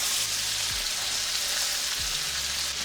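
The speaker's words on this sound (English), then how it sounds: "All right, so the steaks are in here cooking." Steaks sizzle steadily in a pan with garlic, butter and rosemary, a constant bright frying hiss with no talk over it.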